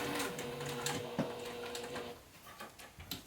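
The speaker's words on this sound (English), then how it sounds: "My machine is one of those machines that whenever it stops sewing, the needle is always down" A sewing machine stitches through a vinyl pocket in short mechanical bursts of rapid needle clatter, with small knocks and pauses between runs as the stitching stops and starts.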